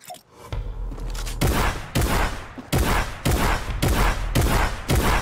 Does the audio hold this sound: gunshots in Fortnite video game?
yes